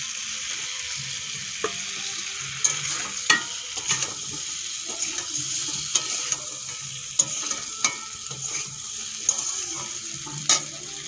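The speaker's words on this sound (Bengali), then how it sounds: "টমেটো আর সজনেগুলো একটুক্ষণ ভেজে নিয়েছি, এখন দিয়ে দেবো ভেজে রাখা আলু আর বেগুন" Tomato and drumsticks frying in a pan as fried potato and eggplant go in, a continuous close sizzle broken by repeated sharp scrapes and clinks of the spatula against the pan, with no talk.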